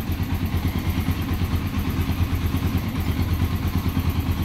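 A Yamaha XTZ 125 motorcycle engine idles steadily with its battery disconnected, a close, continuous low chugging rumble with a rapid even pulse and mechanical clatter, no voices over it.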